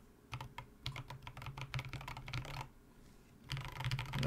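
Close typing on a Tofu60 mechanical keyboard with stock Drop Holy Panda switches and tuned stabilizers, a fast run of tactile clacks and thocks, a short pause, then another burst of keystrokes.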